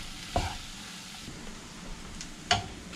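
Asparagus masala stirred in a pan, soft scraping against a low sizzle, with two sharper clinks of the spoon on the pan near the start and end, close and fairly quiet.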